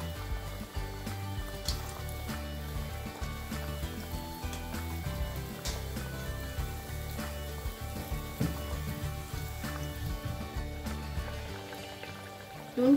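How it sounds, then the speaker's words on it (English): A single kachori of spiced pea filling frying on medium heat in a pan of hot oil, giving a steady, close sizzle with scattered pops and crackles that continues evenly throughout, with no one talking. "So now I'm going to put one kachori first into the oil and let it fry."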